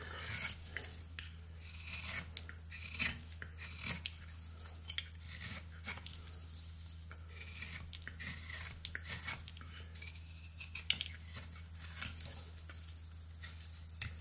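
Knife whittling and rounding the base of a wooden lighthouse carving, producing repeated close scraping and rasping strokes in an irregular rhythm over a low steady hum.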